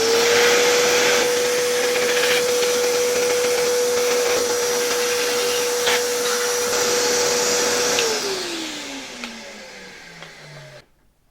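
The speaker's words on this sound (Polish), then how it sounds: "No to jeszcze raz biorę pędzelek, odkurzacz i czyszczę tutaj też te zanieczyszczenia" A vacuum cleaner runs steadily and loud while dirt is cleaned off disassembled motor parts of a 1972 Hoover 1346A vacuum, then spins down with falling pitch as it is switched off.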